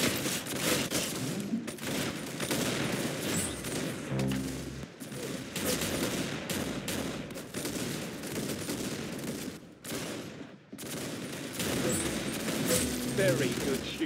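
Gunfire rattles through a video game in repeated bursts of rapid shots, loud and close, with brief pauses between volleys. Voices talk underneath at times.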